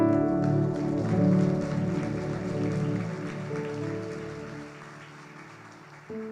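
A church congregation applauding during a Portuguese-language service, a steady patter of many hands layered over sustained music that fades gently toward the end.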